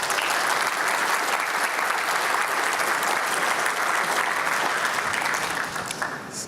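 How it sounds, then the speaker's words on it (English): A conference keynote audience claps for sponsors in a large hall, a full, dense round of applause that holds steady and then tapers off near the end. "Let's give them a good round of applause."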